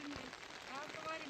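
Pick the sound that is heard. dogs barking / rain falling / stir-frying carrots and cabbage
rain falling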